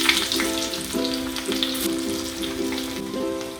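Small shallots hitting hot oil in a pan for a buttermilk curry, giving a loud continuous sizzle with crackling bursts and stirring, no voices.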